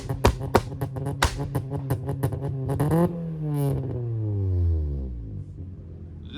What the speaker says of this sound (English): Got the GR Yaris rolling out.